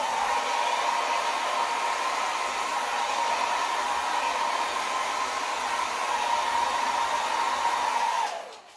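A hair dryer blows out wet acrylic pour paint, a loud, steady, close whooshing hum that runs unbroken for about eight seconds before it clicks off.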